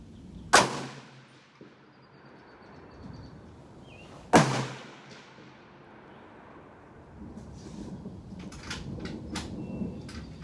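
Two sharp, loud rifle shots from an M38 6.5x55 Swedish Mauser at a 200-yard military shooting match ring out several seconds apart, each fading into an echo, followed by faint clicks and rustling.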